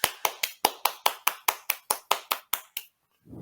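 About a dozen evenly spaced claps from a single pair of hands, sharp and close, ending abruptly in silence before a faint voice starts.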